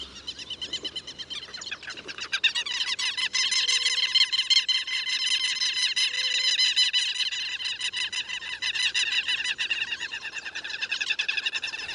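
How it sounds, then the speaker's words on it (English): A pair of southern lapwings, a savanna bird, call in territorial display: loud, shrill, rapidly repeated cries that overlap and continue almost without a break, close by and clear. "Here we have a pair of southern lapwings giving a territorial display."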